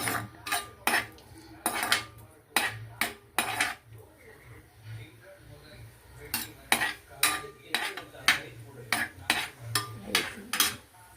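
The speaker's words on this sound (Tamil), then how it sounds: "வெங்காயத்தை போட்டு வதக்கிக்கோங்க" Onions being sautéed in a pan, heard as a series of sharp metallic spoon scrapes and clinks against the cookware in irregular bursts, with a faint low sizzle underneath.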